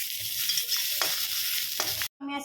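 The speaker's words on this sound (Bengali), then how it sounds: "বাদবাকিটা আমি ভাজা বসিয়েছি রসুন দিয়ে।" Garlic fries in a pan with a steady close hiss, broken by a few scraping stirs, then cuts off briefly near the end before the sizzle returns.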